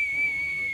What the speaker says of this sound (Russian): свисти, желтая карточка.